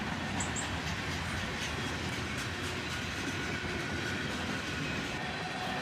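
CSX freight train rolling past with loaded lumber cars, close and steady, with rhythmic clickety-clack of wheels over rail joints, a continuous rumble and brief high wheel squeals.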